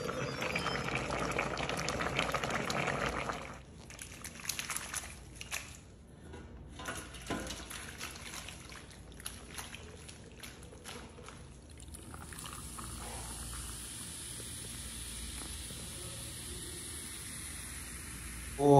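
Chicken and pasta simmer with water inside an electric pressure cooker, a soft bubbling and hissing that shifts partway through into a steadier, quieter hiss, faint and close with no talk.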